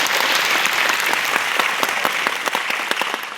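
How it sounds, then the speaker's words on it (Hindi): An audience at a Vestige direct-selling company event claps loudly and steadily throughout, with dense applause filling the hall. "जोरदार तालियां बजाइए अपने लिए और अपने कल्चर के लिए"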